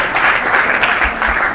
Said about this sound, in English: Give Vinegar Syndrome a round of applause.